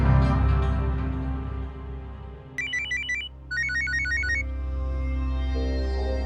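A phone rings with two bursts of bright, repeated electronic trills over a steady low hum and background music, without any talking.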